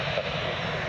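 A Jet2 airliner's engines roar steadily at Newcastle Airport, a broad, loud, continuous rumble with no voices over it.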